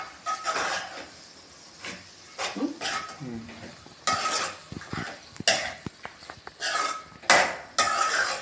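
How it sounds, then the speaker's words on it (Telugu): A ladle stirs ridge gourd and moong dal curry with tomato and fenugreek leaves in a pot, giving irregular clinks and scrapes of metal on cookware with a faint sizzle and bits of quiet talk. "ఇది ఒకసారి కలుపుకోవాలి"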